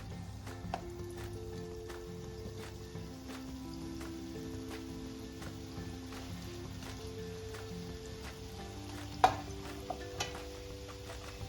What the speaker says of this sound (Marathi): आता आपण या तेलामध्ये असे गोळे सोडून द्यायचे